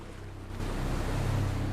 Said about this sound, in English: looks over the wall at the lapping water below